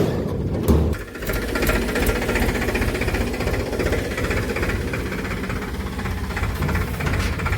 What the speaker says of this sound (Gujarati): તો મિત્રો ટ્રેક્ટર ખેતરમાં અહીં આવી ગયું.